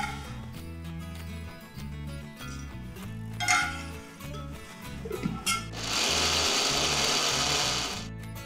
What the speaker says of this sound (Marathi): तर हे मिक्सरमध्ये व्यवस्थित फिरवून झालेलं आहे